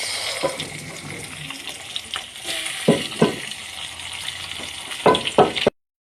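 Sliced onions hit hot oil in a kadai already holding bay leaves and whole garam masala. A loud, close sizzle and hiss follows, broken by several sharp clattering bursts of stirring.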